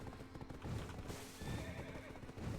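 A horse in the online game Black Desert Online whinnies while its hooves clip-clop in a quick galloping rhythm, the neigh and hoofbeats repeating over a steady game backdrop.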